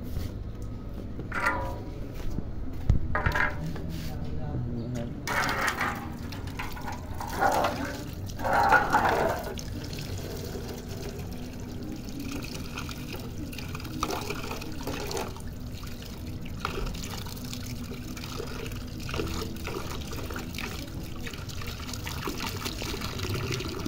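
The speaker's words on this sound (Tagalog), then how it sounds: "Chocobar, ikuha lang tayo ng bagong tubig nila bago tayo matapos sa aming pagpa-vlog" Fresh water trickles and pours steadily for pigeons, the liquid splashing in a continuous stream with a few louder gushes early on, over a busy background.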